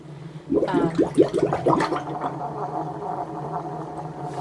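Water draining from a tub after washing wool, a close gurgling and glugging that bursts at first and then settles into a steadier low swirl.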